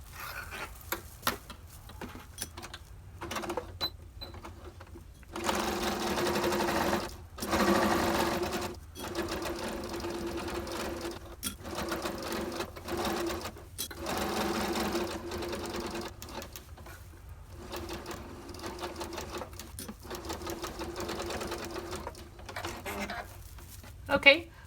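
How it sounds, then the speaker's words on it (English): Sewing machine stitching around the edge of an oven mitt in long steady runs with short pauses between them, close and fairly loud, with a little talk now and then. "go ahead and sew all the way around to the end, leaving the bottom of the mitt open"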